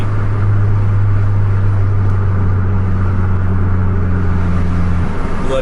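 A bus engine drones with a steady low hum heard from inside the vehicle during a chase behind another bus. The revs stay high and even throughout, with road rumble underneath and no talk.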